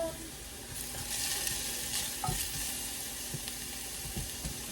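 Leftovers sizzle steadily in a frying pan while a utensil stirs them, with soft scraping knocks scattered through the hiss. No one speaks.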